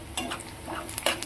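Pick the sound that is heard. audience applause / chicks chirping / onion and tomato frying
onion and tomato frying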